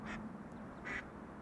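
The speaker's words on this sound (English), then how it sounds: "Mama is calling the ducklings." A mother duck gives two short, faint quacks about a second apart to call her ducklings, heard alone against quiet background noise.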